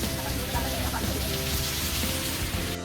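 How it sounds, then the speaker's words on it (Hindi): Heavy rain pours down in the hills of Kausani, Uttarakhand, a dense, steady hiss of drops drumming on surfaces at close range, continuous and fairly loud with no talk. "फिर थोड़ी देर बाद इतनी तेज़ बारिश शुरू हो गई"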